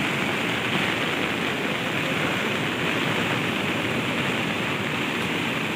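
A flooded river surges past in full spate beside a high bridge it had overtopped, a dense, steady roar of rushing water, close and unbroken throughout with no voices.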